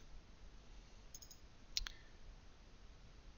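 A single computer mouse click sounds faintly against a quiet background hiss, a sharp short tick near the middle of the moment with no talking.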